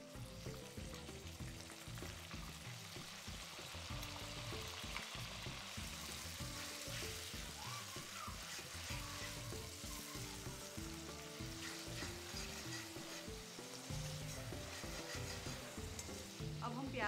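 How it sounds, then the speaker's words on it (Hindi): Ground onion paste frying while a utensil stirs it, a continuous close sizzle with a steady rhythmic scraping pattern that runs the whole time. "अब हम प्याज को ब्राउन होने तक पकने देंगे।"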